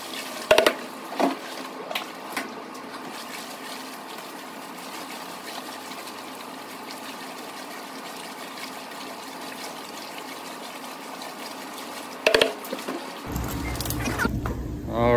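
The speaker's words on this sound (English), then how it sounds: "So I'm going to let this mash tun keep filling up" Water runs into a mash tun while brewing a New England IPA, making a steady, moderate rushing flow with occasional knocks. A lower, louder mechanical hum joins near the end.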